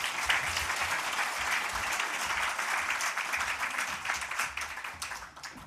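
A church congregation claps warmly during a Sunday morning worship service, continuous applause that stays fairly loud and dense before trailing off slightly near the end, with no speech over it.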